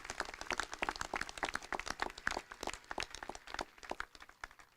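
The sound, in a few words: audience applause for graduates' families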